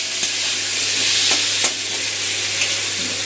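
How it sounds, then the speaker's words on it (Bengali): Potatoes with salt and turmeric fry in hot oil, a loud, close, continuous hiss of sizzling with a few soft knocks of stirring mixed in. "নুন হলুদটা দিয়ে আলুটা ভেজে নেব।"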